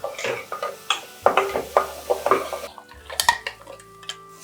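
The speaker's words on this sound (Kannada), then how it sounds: "ಮೆಂತ್ಯ ಸೊಪ್ಪು ಹಾಕ್ಕೊಂಡು ಒಂದು ಸ್ವಲ್ಪ ಫ್ರೈ ಮಾಡ್ಕೊಳ್ಳೋಣ" A utensil stirs and scrapes fenugreek leaves frying in a pan for millet biryani, giving close, irregular metallic clinks and scrapes with light sizzling underneath.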